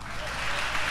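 Loud, steady applause fills a church congregation during a sermon on divine protection, a dense wash of clapping lasting under a second with no pause.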